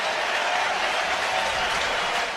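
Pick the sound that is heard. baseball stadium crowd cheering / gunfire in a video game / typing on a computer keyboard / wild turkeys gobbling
baseball stadium crowd cheering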